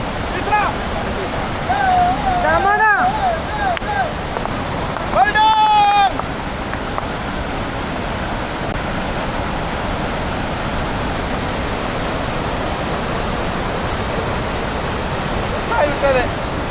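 Constant loud rushing floodwater pours down like a waterfall on a river, with a few brief voices rising over the roar.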